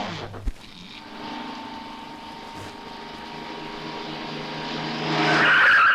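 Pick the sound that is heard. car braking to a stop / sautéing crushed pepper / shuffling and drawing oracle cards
car braking to a stop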